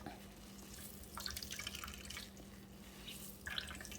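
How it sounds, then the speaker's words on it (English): Faint water trickles and drips into a container as grated bottle gourd is squeezed in cheesecloth, a soft uneven splatter with a low hum beneath. "use a cheesecloth because it's easier to squish out all the water"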